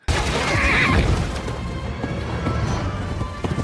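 A horse in a samurai film gives a loud, close neigh, followed by hooves and commotion.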